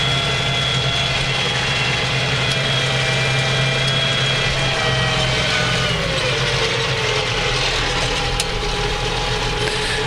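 A Massey Ferguson 35 tractor engine runs steadily while plowing, a constant loud mechanical drone with a low rumbling hum that holds even throughout, with no talking.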